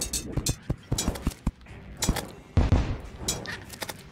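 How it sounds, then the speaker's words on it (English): Artillery fire in Terraria in hard mode, a rapid series of sharp, punchy gunfire bursts with booming low thumps, irregular and close, several clusters over a few seconds. "Yeah, artillery fire."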